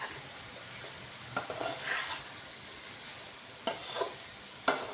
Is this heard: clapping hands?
no